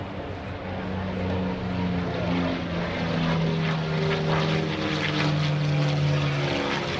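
P-51D Mustang propeller fighter flying at a naval air station airshow, a loud, continuous engine roar with a slowly shifting pitch that swells steadily as it passes overhead.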